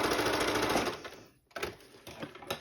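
A home sewing machine stitches directional fabric in a steady, rapid mechanical whir, pauses briefly, then starts again in shorter bursts, close up and with no talking.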